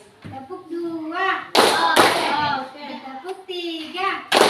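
Children in a classroom chant a call-and-response phrase, then the class answers with a few sharp, loud claps in a short burst. A final clap lands at the very end.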